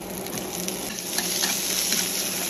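Pork pieces hit a hot oiled pan with garlic and set off a steady, bright sizzle that fills the whole stretch without any talking.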